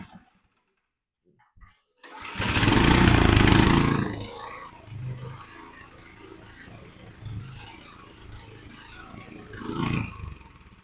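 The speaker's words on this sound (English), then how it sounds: "you can kind of hear it there where it's sounding like it wants to sort of die" Troy-Bilt tiller engine at a low, rough idle that sounds like it is about to die: a loud sputtering burst after a brief quiet start, then an uneven, faltering chug with occasional surges.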